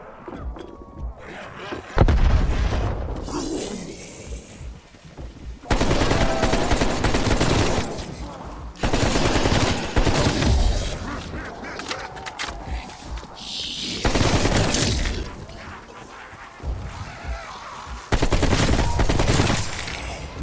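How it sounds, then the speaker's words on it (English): A frag grenade blast and gunfire in DayZ: dense bursts of automatic shots and heavy thuds come in repeated loud blocks with brief quieter gaps between them. "Throwing frag!"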